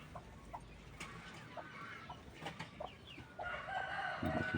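A Rhode Island Red chicken clucking in a backyard coop, soft scattered clucks and murmurs at moderate distance over faint ambient noise, with a few louder calls near the end.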